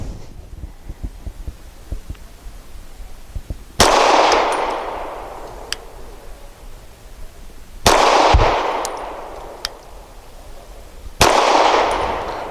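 Grand Power Q100 pistol firing Hornady American Gunner 115 grain hollow point rounds: three sharp, loud shots spaced several seconds apart, each with a decaying outdoor echo, faint ticking between them.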